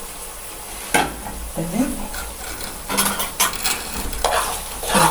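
Peas and carrots cook in a covered pan and are stirred, with repeated scraping and clinking of a spoon against the pan over a low sizzle, and a brief word spoken.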